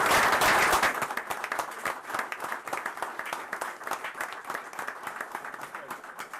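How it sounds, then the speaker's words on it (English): Audience applause at a town board meeting in Hampton, Rockingham County: a burst of many hands clapping, loudest at the start, then settling into steady, moderately close clapping from a room of people. "Let's give Dan a round of applause"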